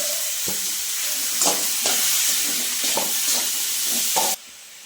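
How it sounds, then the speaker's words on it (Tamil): Cashews and tomatoes sautéing in a pan for paneer masala, a steady close sizzle broken by several soft stirring scrapes, ending abruptly near the close. "முந்திரி முந்திரி போட்டுக்கலாம் தக்காளி போட்டுக்கலாம்"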